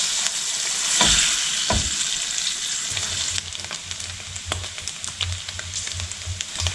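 Beef sizzles and crackles steadily in butter in a hot pan, with occasional stirring clatter and a low hum beneath the frying.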